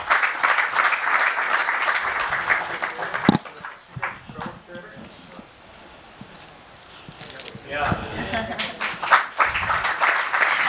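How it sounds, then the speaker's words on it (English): An audience applauds for a soldier's parents, a loud burst of clapping at the start that fades to near quiet midway, then swells again with scattered claps and some voices toward the end. "So a huge round of applause for them first."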